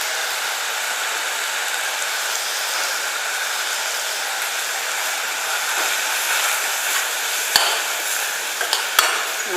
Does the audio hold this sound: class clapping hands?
no